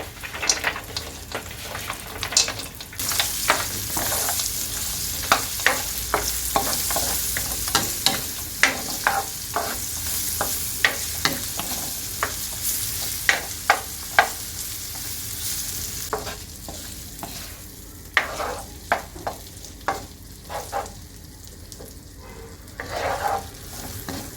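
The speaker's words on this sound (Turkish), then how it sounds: "Köftelerimi ekleyip kızartacağım." Meatballs fry in hot oil with a steady sizzle, broken by frequent sharp clicks of stirring and turning, close and fairly quiet.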